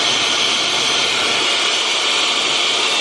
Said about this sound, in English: And this is the Dyson.